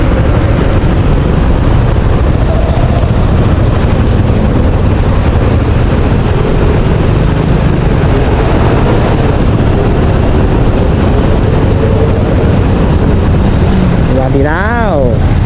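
Dense, steady roar of stop-and-go traffic in a jam around a Suzuki New Shogun SP motorbike on suburban South Tangerang roads, loud and continuous, with a brief rising engine rev or horn near the end.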